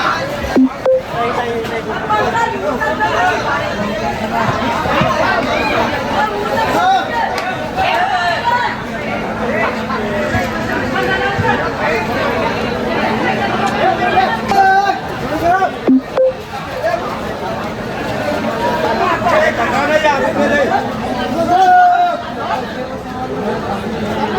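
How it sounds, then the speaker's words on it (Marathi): A crowd packs a busy Mangaluru train station platform. Dense, continuous babble of many voices surrounds the listener at close range, with occasional louder nearby speech rising above the murmur. "आता ही मँगळुरू ट्रेनची गर्दी बघा किती झाली आहे"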